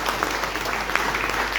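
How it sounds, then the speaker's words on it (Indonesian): Brief burst of congregation applause for mothers during a church sermon gathering in Mimika, steady dense clapping at moderate loudness with no voices over it. "Dan tepuk tangan untuk ibu."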